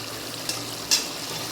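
Meat curry frying in oil in a pan at home, a soft steady sizzle with two brief brighter crackles, close and fairly quiet, with no voices.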